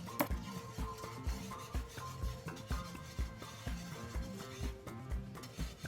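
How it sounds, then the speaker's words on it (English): Butter and Moroccan seasoning are whisked quickly in a pot for mac and cheese, making a fast, even run of scraping, rubbing strokes close by with no talk. "And whisk it all together really quickly. You don't want that butter to burn."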